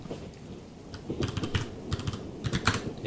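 Computer keyboard typing during a coding session, with steady rapid keystrokes in uneven bursts, close and fairly loud, with no speech.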